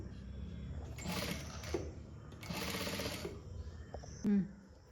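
A sewing machine stitches a princess-cut seam on a frock in two sustained runs of mid-volume whirring, separated by pauses, with a brief louder bump near the end.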